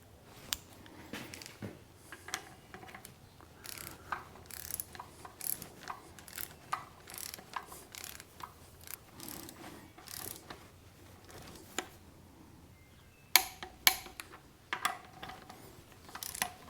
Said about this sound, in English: we'll set the torque wrench for 40 foot-pounds